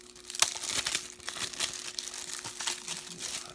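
Plastic wrapping crinkles and tears off a 4K Ultra HD disc case of The Invisible Man, with close, continuous crackling and a few sharper rips throughout.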